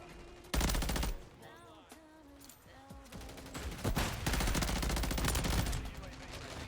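Gunfire in a Modern Warfare 3 zombies match with player-versus-player fighting comes as rapid bursts and sharp shots amid other game noise, fairly loud, with quieter stretches between volleys.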